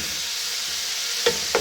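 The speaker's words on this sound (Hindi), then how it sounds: "इसको हम हाफ कप दही मिला देंगे और इसको हम खूब 10 से 12 मिनट भूनेंगे।" Beef sizzles in a pot with yogurt, onions and spices for yakhni pulao, a constant close frying hiss broken by two quick stirring scrapes near the end.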